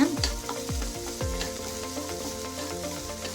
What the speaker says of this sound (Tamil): நல்லா வதங்கினோடனே வேக வச்சு எடுத்த இந்த பீன்ஸை இதில் சேர்த்துக்கிறேன். ஒரு செகண்ட் மட்டும் நல்லா கிளறி விடுங்க.